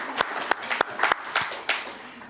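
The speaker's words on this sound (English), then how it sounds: "Let's give him a clap." A small audience at a circular economy session claps for a speaker, with sparse separate claps spread across the moment, close and fairly loud with gaps between them.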